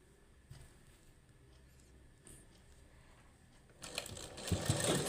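Domestic sewing machine stitching a folded fabric seam, quiet handling at first, then the machine starting up and running louder in the last second and a half.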